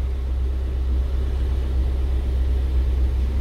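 A warm Toyota MR2 Spyder roadster engine idles steadily with a deep, continuous low rumble, close and even, with no voices.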